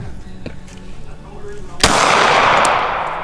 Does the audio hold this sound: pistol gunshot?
yes